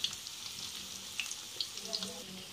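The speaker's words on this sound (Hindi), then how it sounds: "धीरे धीरे इसे पलटूंगी और फ्राई करूंगी।" Manchurian balls frying in a pan while being turned slowly, a quiet steady sizzle with several sharp pops and light spatula clicks, close by and without talk.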